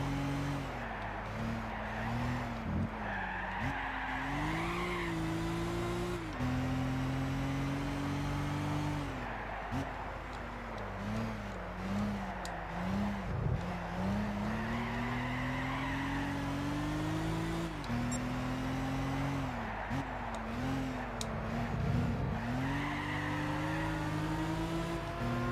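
Race cars in Gran Turismo 6, including a Lamborghini Aventador, roar through a corner with continuous engine revving that rises and falls between gear shifts, overlaid by repeated tire squeal and skidding, loud and close throughout.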